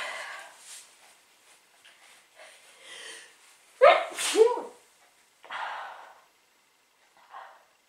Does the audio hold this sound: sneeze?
yes